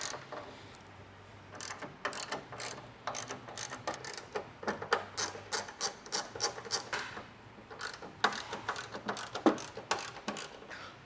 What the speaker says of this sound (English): you're just going to need a 10mm socket and a ratchet